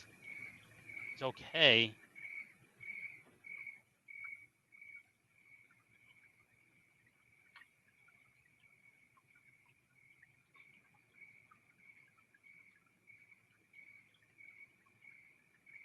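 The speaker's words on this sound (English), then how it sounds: "And I like the crickets. That's a nice touch there." Crickets chirp in a steady, evenly spaced pulse from a 1962 movie soundtrack, faint and continuous after a brief spoken word near the start.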